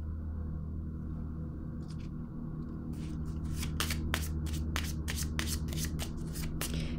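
Tarot cards are shuffled and handled by hand in a quiet room, a soft flutter at first, then a rapid run of crisp riffling slaps in steady rhythm, close and clear with no talk.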